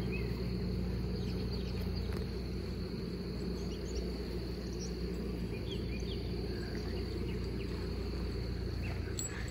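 A large honeybee swarm in a backyard fans steadily at the hive entrance after clustering down from a cedar limb, producing a continuous low buzzing hum that holds at an even, near level throughout, with no talk.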